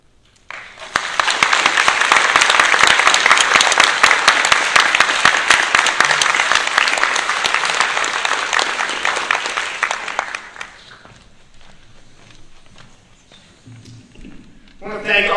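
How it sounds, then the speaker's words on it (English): Loud, dense applause from a town hall audience fills most of the stretch, holding steady for about ten seconds before dropping to scattered, fading claps and room murmur, with a fresh swell at the very end. "Please give a round of applause for everyone who's contributed to the conversation."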